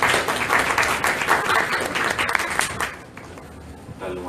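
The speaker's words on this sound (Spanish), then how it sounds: "Los recibimos con fuertes aplausos, por favor." Audience applause for two panelists at a round-table discussion at the Lima book fair, a dense steady patter of clapping that fades out toward the end.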